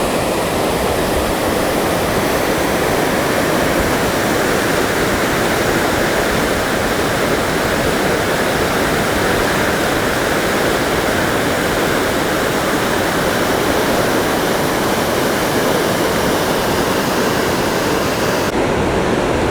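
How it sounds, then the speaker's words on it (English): Water rushes through rocks in a river at Valley Falls State Park, West Virginia, in a loud, dense, unbroken roar of a nearby waterfall. "the waterfalls are just as the river making its way through a bunch of rocks"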